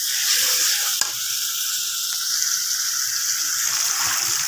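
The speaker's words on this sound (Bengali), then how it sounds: "এই যে সুন্দর করে কষিয়ে নিলাম।" Chopped potatoes and chicken being stir-fried down in a pan for a chicken curry, a loud, dense, continuous sizzle and hiss up close with a sharp utensil knock near the start, no voices.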